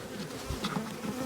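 A swarm of honey bees hums steadily as it is moved into a hive with five frames, a dense close buzzing that fills the whole short moment without a break.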